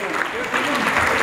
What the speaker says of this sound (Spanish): Fuerte el aplauso, que se escuche fuerte el aplauso.